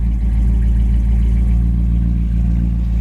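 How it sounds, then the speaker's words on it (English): A 1964 Chevy Impala Super Sport idles through its dual exhaust, a loud, steady low rumble that runs unbroken and close up with no talk over it. "Dual exhaust system sounds good."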